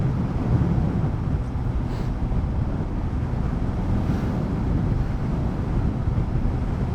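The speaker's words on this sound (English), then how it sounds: "It's pretty windy today," Wind gusts across an outdoor microphone beside a 2012 Suzuki GSR750A motorcycle, a steady low rumbling buffet with no talk, constant and close throughout.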